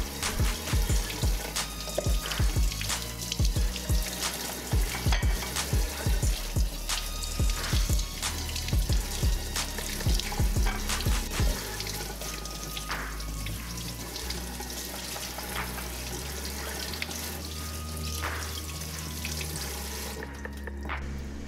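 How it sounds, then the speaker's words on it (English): Corn being rinsed under a running kitchen tap, a continuous splashing stream with irregular spatters as the ears move through the water, close and steady, easing to a smoother flow toward the end. "grab your corn and let's give it a rinse"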